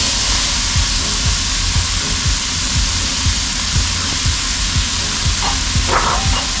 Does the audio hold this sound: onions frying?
yes